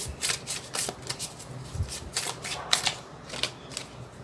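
Playing cards are shuffled for a reading in quick, crisp riffling bursts that repeat steadily and sound close, with no talking over them.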